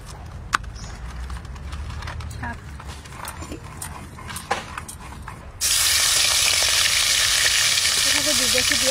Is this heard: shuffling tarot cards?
no